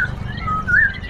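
Juvenile magpie-robin (kacer trotolan) giving thin, rising chirps and a short whistled note, close by, over a low steady rumble of background noise.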